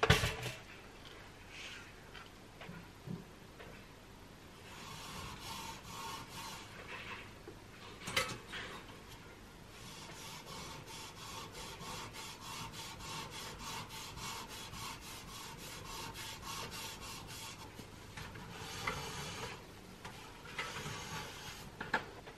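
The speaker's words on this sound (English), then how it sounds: "you just use a little bit of pink stuff on a cloth and then rub it away" Cloth rubbed with pink cleaning paste over marks on a Breville Impressions kettle, a steady close scrubbing and swishing that runs throughout with brief louder scrapes and no talk.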